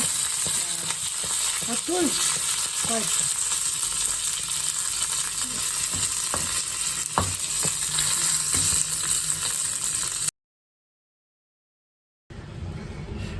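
Curry leaves dropped into hot tempering oil with cumin, a dense close sizzle with a few crackles and utensil sounds, then a brief silence before the sizzling resumes.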